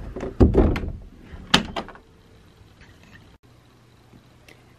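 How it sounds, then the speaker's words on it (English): A door is shut at night during a ferret care bedtime routine, giving a few close knocks and a sharp thud, followed by quiet rustling and faint clicks. "Alright, then we shut the door."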